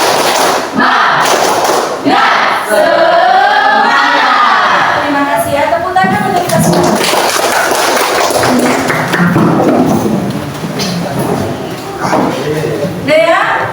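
A school class chants the rhythmic 'tepuk semangat' clap together, with loud, steady claps and many young voices chanting in unison under a teacher's lead.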